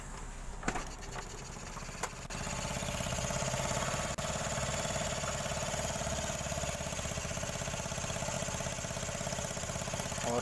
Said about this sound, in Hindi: और आप देख सकते हैं स्टार्ट हो गई है दोस्तों।